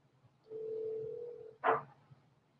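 A telephone dial tone plays during a meeting call while the line is redialed, a steady faint hum that lasts about a second and is followed by a short buzzy burst, with no talking.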